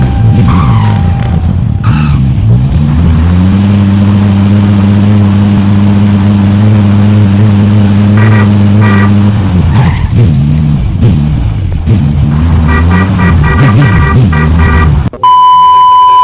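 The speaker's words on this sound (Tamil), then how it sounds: "காரை ஓட்டும் போது அதுல வர சவுண்ட்" Video game car driving, with a loud, steady engine drone that rises and holds, then tire squeals and skids, along with electronic beeps and a brief interface chime near the end.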